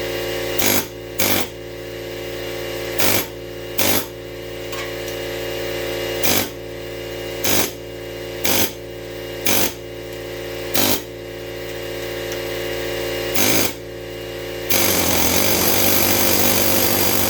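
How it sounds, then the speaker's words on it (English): A pneumatic air hammer with a chisel bit fires in short, sharp bursts, roughly a dozen irregularly spaced, over the constant humming drone of a running air compressor, working on the front suspension of a 1988 Honda CRX Si. "We're gonna use the air hammer. I'm sorry. Hammer. I got it with a chisel bit."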